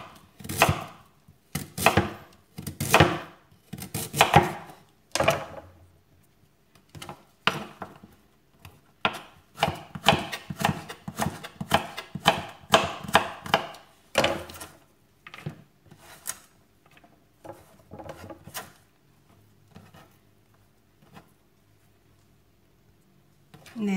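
A knife chops sweet potato into long strips on a cutting board in quick bursts of sharp, close taps, then slows to scattered cuts before going quiet.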